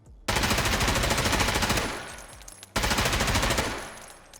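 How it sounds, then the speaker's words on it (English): An M4 rifle with a riser sight fires full auto in a video game: two loud, close, sustained bursts of rapid gunfire, the first about two seconds long and the second slightly shorter after a brief pause. "This is the M4 with the riser sight, full auto."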